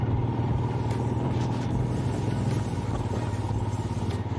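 A Royal Enfield Himalayan rides slowly over a rough road on a cold Leh-Ladakh trip, its engine giving a steady close rumble with clatter and bumps from the uneven surface.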